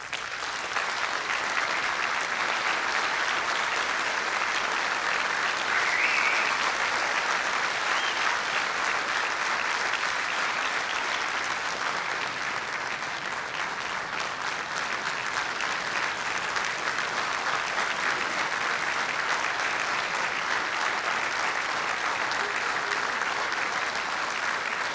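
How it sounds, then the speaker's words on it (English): An audience at the 2026 Ranger Hall of Fame induction ceremony gives a steady, sustained round of applause, dense clapping from many hands filling the room without a break. "Please join me in a round of applause."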